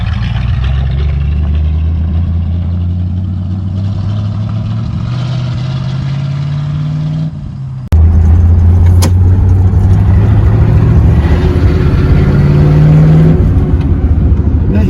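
A 1979 Chevy Camaro field find with a 307 V8 and four-speed T10 drives under its own power, its engine droning loud and steady with rising pitch, then a sharp shift midway into a heavier, louder pull.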